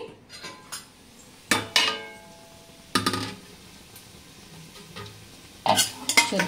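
Onions for tomato rice frying in a pan and stirred with a utensil, giving a few sharp scraping clanks of metal on metal over a low sizzle, with quiet gaps between the bursts.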